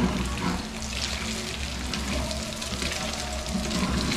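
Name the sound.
cooking oil sizzling and popping in a pan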